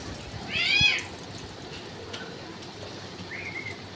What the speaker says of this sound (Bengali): ঝোড়ো বাতাস বইছে, সঙ্গে মুষলধারায় বৃষ্টি হচ্ছে।